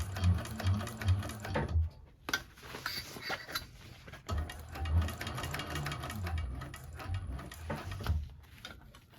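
A 1341 cylinder arm sewing machine stitching a bag seam, running in bursts with short pauses, a close mechanical whir and rattle with the needle ticking rapidly.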